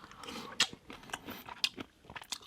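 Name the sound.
chewing Costco garlic butter shrimp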